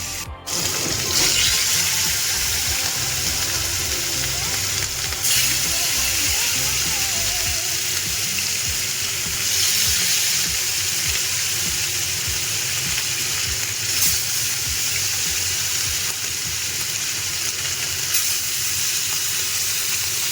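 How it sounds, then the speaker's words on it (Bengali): Hilsa fish frying in hot kachi ghani mustard oil in a pan, a loud, steady crackling sizzle that runs on without pause from start to finish, with no voices. "তারপরে এক এক করে মাছগুলোকে ছাড়বো।"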